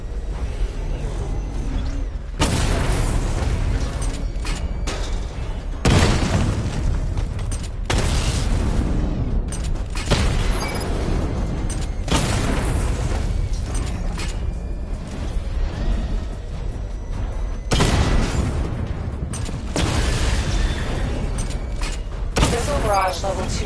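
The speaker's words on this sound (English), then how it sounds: "Charge the missile barrage to level 2 to destroy up to 4 targets at once" Missile barrage explosions in Batman: Arkham Knight, a series of heavy booming blasts with whooshes and mechanical clanks, loud and close, coming in repeated bursts over a continuous rumble.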